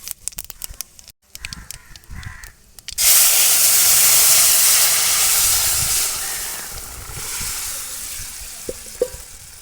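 Whole five-spice tempering dropped into hot oil over boiled potatoes: a few clattering knocks, then a sudden loud burst of spitting sizzle that roars steadily and slowly eases, with a couple of utensil taps near the end.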